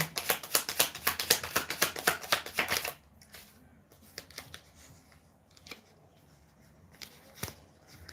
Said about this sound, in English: I just want a good shuffle.